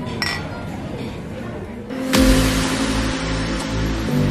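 Craft beer glasses, one a strong 6.9% Belgian-style brew, clink together in a toast at about two seconds, a single sharp bright ring over steady background noise and music.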